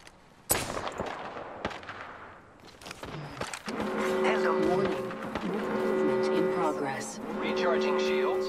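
A sharp, loud gunshot opens a video game firefight in Apex Legends, followed by scattered shots and then dense, sustained fire and mechanical whine while the player is under attack; a voice talks briefly midway.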